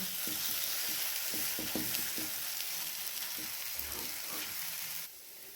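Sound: stirring veg omelette bhurji in a pan

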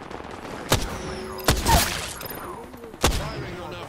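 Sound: gunfire in video game Apex Legends

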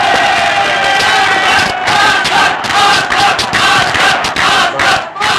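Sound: stadium crowd cheering for the yellow team

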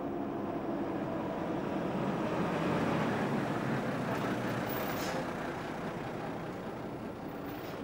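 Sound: bus driving on road

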